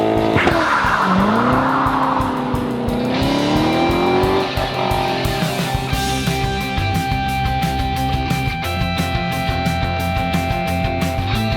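A Chevrolet Corvette C7 Stingray coupé with a targa hardtop roars loudly and up close on a test drive. The engine revs rise and fall and the tires squeal, and the heavy roar carries on steadily with no voices.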